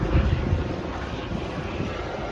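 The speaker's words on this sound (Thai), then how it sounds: "ฮลิคอปเตอร์มาแล้วครับพี่น้อง" Steady low mechanical drone with a faint rotor-like rumble, fairly distant and constant, mixed with wind noise.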